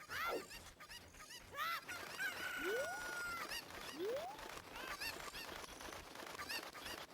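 Video game Cucco chickens from Zelda: Ocarina of Time making repeated squawks and honking cries alongside swooping game tones, steady and fairly loud with no talking.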